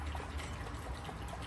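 Water poured from a small glass into flour dough with sugar and yeast, a soft, faint trickle lasting a moment with no talk over it.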